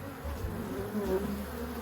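Bees from an opened hive buzz agitatedly close by as frames are handled, a steady droning hum with rising and falling whines as individual insects move around.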